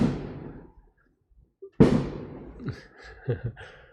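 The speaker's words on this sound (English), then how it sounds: "A lot of fireworks." Fireworks exploding outside: a faint muffled pop, then one sharp loud burst with a decaying crackle, followed by softer distant pops and rumbles, heard from indoors.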